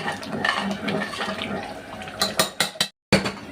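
Water poured from a vessel into a pressure cooker holding mutton mince (kheema) in a home kitchen: a close, steady splashing pour with a few sharper clatters near the end and a brief break before it resumes.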